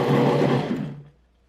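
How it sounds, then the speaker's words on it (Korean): A blender grinds tomatoes, onion and garlic, a steady loud motor whir that cuts off after about a second, leaving near silence. "블렌더 준비하고 잘라놓은 토마토를 넣으세요. 양파 넣고 마늘도 넣어서 곱게 갈아줄게요."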